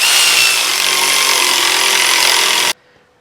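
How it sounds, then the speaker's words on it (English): Air ratchet running in Loctite-coated brake bracket bolts on an MG3, a loud, close, continuous buzzing whir for under three seconds that cuts off abruptly into quiet. "I'm just going to use my air ratchet just for some speed"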